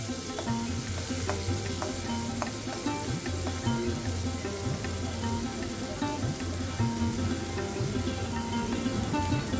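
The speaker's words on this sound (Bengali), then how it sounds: "কালো জিরের পেঁয়াজটাকে একটু মিনিট 2 ভেজে নেব।" Chopped onion and black cumin seeds frying in a pan, a steady close sizzle with occasional stirring clicks and crackles.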